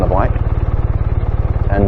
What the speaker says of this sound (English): we'll start the engine. You get that sideways rumble on the bike